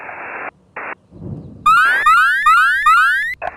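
An alarm signal sounds close and loud: a few short static bursts and a low rumble give way to four rising electronic sweeps repeating in a steady pulsing pattern.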